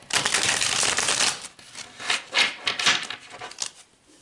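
Spirit oracle cards being shuffled and pulled, a close, papery riffling and rubbing in bursts, loud at first then coming in shorter swishes with brief pauses, with no voices.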